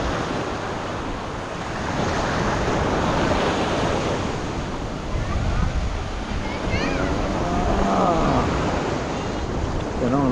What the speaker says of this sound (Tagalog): malaki pa rin ang alon